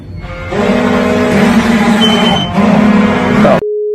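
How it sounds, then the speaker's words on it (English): Alarms go off late at night, loud and continuous, in layered steady electronic tones that hold for several seconds, cut out abruptly, and give way to a single sustained beep. "We got alarms going off."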